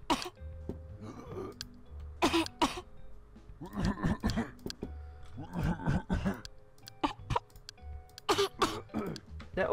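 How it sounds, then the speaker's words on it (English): Hospital patients in the game Hospitalize coughing and clearing their throats, a series of short rough bursts scattered irregularly and sometimes clustered, fairly close and prominent, with no talk over them. "They're all coughing on me."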